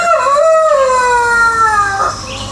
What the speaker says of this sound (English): Everybody's favorite rooster.